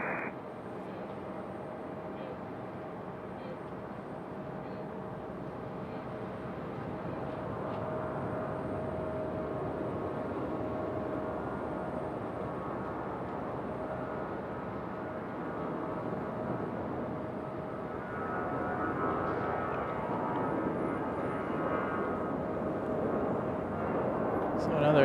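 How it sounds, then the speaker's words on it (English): A Delta Airbus A320 departs Raleigh-Durham airport from runway 5 left, a loud, steady jet roar that holds and swells slightly as it climbs, with a faint voice murmuring underneath. "So another A320 departure here for Delta. Good sounding departure for this one."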